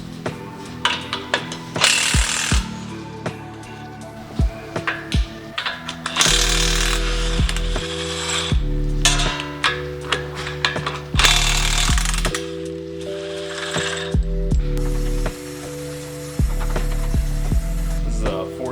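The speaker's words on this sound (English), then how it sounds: "we're just gonna take off these bolts here, and then these two in the bottom here" A ratchet and tools work loose bolts on a Toyota Land Cruiser 250 during a lift kit install, with loud, close, intermittent mechanical clicks and bursts separated by pauses, some sustained tool whirring.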